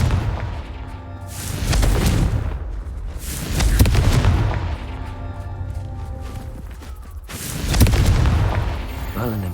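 Confringo spell blasts in the Hogwarts Legacy video game, three deep booming explosions a few seconds apart with rumbling tails, loud and close.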